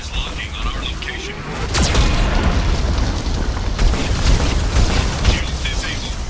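Geth cannon blasts in the video game Mass Effect 2 land as heavy booming explosions amid continuous crackling, rumbling battle noise, with a sharp burst near the start and further impacts following, loud and close.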